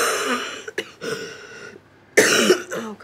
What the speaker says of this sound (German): Bis auf Ihren Husten.